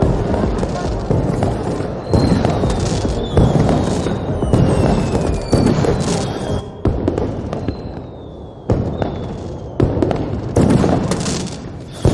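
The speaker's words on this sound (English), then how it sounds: "It was some kind of projector for the fireworks." Fireworks fired from a projector in the Beyond A Steel Sky video game, repeated loud bursts and crackling pops with whistling rising streaks, irregular and close.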